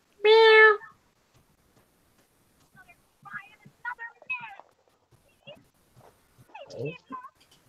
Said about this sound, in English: Did it sound like a cat meowing?